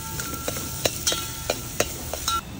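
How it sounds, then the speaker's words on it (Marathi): Onion sizzles in hot oil while a spoon stirs and scrapes the pan in a steady rhythm of sharp clicks. "बारीक चिरलेला कांदा, याला छान परतून घ्या."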